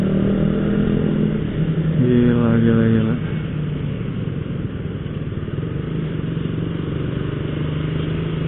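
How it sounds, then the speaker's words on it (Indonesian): A 125cc motorcycle ridden fast, its engine droning steadily with a quick rising rev at about two to three seconds, heard up close from the rider's position over constant wind rush, with one brief spoken exclamation. "Bisa-bisanya motor 125cc kenceng gitu ya"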